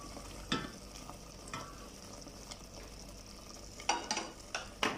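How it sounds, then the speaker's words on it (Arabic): Tomato juice coming to a boil in a cooking pot, a soft bubbling simmer with occasional stirring and clinks of a utensil, faint and close. "هنسيبها يا دوب كده تغلي غلوه"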